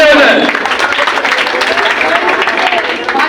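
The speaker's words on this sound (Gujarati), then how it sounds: "એકવાર જોરદાર તાળી બધાય" A wedding sangeet audience bursts into applause, loud and close, and the clapping holds steady through to the end, with voices mixed into the crowd noise.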